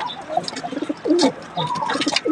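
Pigeons coo close by in a racing pigeon loft holding three-day-old young birds, with soft, repeated throaty calls overlapping over about two seconds.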